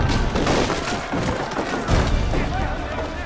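A historical black powder barrel blows apart in Assassin's Creed III, a dense splintering wooden crash with heavy low thuds and a second burst near the end, close and loud over busy game ambience.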